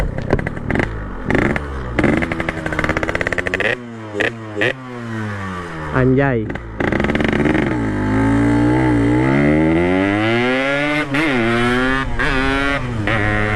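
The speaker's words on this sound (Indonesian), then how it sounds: "Ini enak gak sih knalpot kayak gini gitu kan" A Yamaha RX King motorcycle fitted with an aftermarket exhaust revs loudly up close, first in short choppy throttle blips with brief gaps, then in long sustained rising and falling revs, with a brief spoken exclamation.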